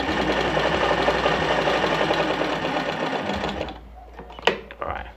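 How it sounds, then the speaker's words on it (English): An Alfa Alfamatic 103-3 treadle sewing machine runs a regular straight stitch, a steady loud mechanical whir with rapid needle rhythm that stops near the end, followed by a few clicks. "this is on 0, so I'm sewing the regular straight stitch"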